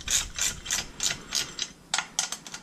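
A ratchet with a 12 mm socket tightens the top-end bolts on an 80cc motorized bicycle engine, giving a run of quick, crisp pawl clicks in short bursts, close and clear.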